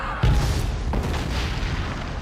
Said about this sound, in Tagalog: Sunod-sunod ang pagsabog sa Besham.